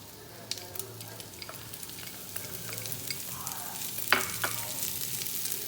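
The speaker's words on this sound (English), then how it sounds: "We're going to cook the chorizo and the onions until the onions are nice and cooked" Chorizo and onions frying in a pan, a steady close sizzle broken by sharp crackles and pops and occasional scraping stirs, with no voices.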